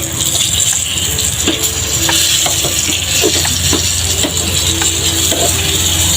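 Fish shallow frying in hot oil gives a steady, loud sizzle, with occasional utensil clinks and scrapes as the pieces are turned.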